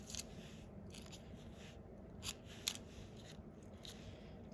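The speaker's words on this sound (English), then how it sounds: "I'm just going to cut a little piece." Scissors snip a small piece of teal paper for a stained glass heart craft, with several sharp, close clicks and soft cutting strokes spread unevenly across a quiet room.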